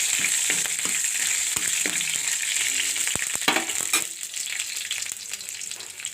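Tempering spices fry lightly in oil for a gram-flour chutney, a continuous near sizzle broken by a few sharp scrapes and clicks of a spoon against the pan, easing slightly toward the end.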